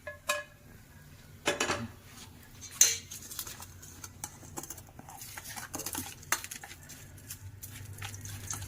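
Fried garlic and onion being mixed into a chutney, heard as scattered clinks and scrapes of a metal spoon against a pan, with a few louder knocks between quieter stretches, close by and without talk.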